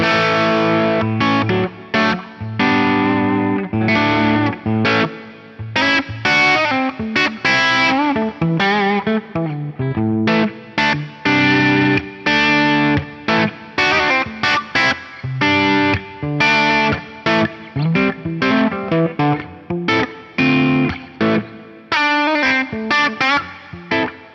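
Electric guitar through a Fractal FM3's Opera House reverb at stock settings, lush and spacious, playing chords and single notes, loud and alone, each note trailing into a long washy tail.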